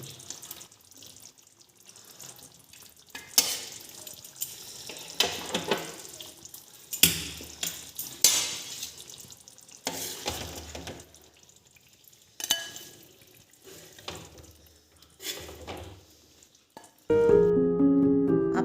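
Tangra fish sizzles gently in mustard oil over a low flame for a Bengali tel jhal curry, with intermittent scraping stir strokes and soft crackling bursts, then a louder clatter at the end.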